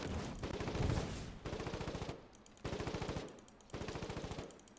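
Sustained machine gun suppressing fire in a tank battle video game, long rapid bursts separated by short pauses, loud and close with no talking.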